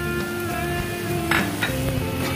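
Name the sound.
potatoes sizzling in a pan, stirred with chili flakes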